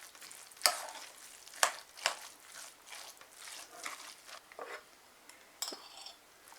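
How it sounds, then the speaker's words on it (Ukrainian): Scraping and stirring of mushroom mince in a pan over a soft sizzle, with a few sharp utensil knocks against the pan and no voices. "знову все ретельно перемішуємо"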